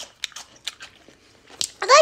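Crisp bites and crunching of pickled green beans come in short, separate bursts close to the mic, with a few quiet gaps between them.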